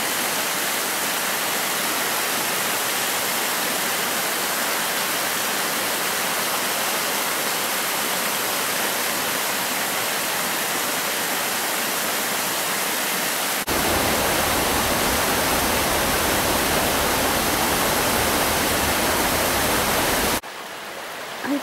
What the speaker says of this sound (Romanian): Aici e izvorul cascadei.